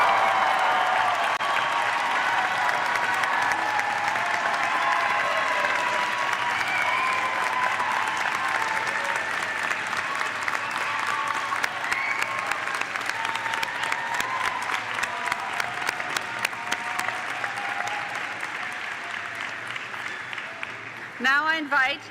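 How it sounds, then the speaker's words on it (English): Convocation audience applauding the June 2026 graduates, a sustained wash of crowd clapping that holds steady for a long stretch, then thins slightly toward the end, with faint voices underneath. "please join me in applauding the June"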